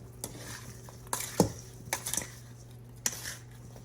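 Spices being mixed into ground turkey in a bowl for a turkey meatloaf: soft scraping and clinking of utensil against the bowl, a few brief knocks spread across a quiet stretch with no talk.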